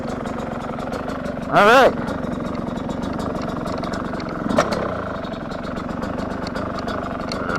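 A 2025 Yamaha YZ125X two-stroke dirt bike idles steadily with its choke off, a continuous buzzing engine drone that runs through the whole stretch while someone speaks briefly over it.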